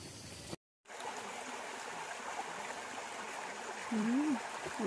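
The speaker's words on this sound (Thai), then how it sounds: "บรรยากาศพี่น้องน้ำไหลละเด้อจ้ะ" Clear water flows steadily along a roadside stream after days of rain, a continuous close rushing trickle that cuts out briefly near the start, with a faint higher tone near the end.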